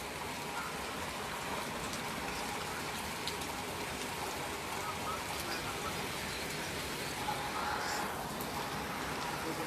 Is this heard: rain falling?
yes